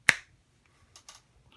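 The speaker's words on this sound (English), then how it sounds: "So we're going to start with how loud a finger snap is." A single sharp finger snap rings out loud and close in a quiet indoor room, followed by a few faint ticks and small noises.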